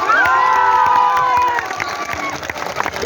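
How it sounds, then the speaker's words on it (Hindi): A crowd at a political rally in Jharkhand cheers and shouts loudly, with scattered clapping, the roar easing slightly after the first second or so. "आपकी तालियों का शोर जाना चाहिए दिल्ली तक"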